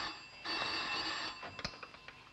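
A 1960s home telephone bell rings once in a sustained metallic trill, then stops, followed by a few soft knocks and room sounds.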